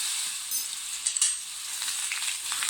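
Ginger and garlic paste sautéing in hot oil gives a steady, close sizzle with a few sharper crackles and stirring scrapes, no voices.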